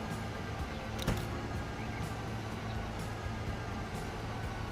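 Electric locomotive rolling through the Swiss Alps in Transport Fever 2: a continuous low drone and rail rumble with a brief sharp clank near the start and soft periodic clicks, steady and near, with no voices.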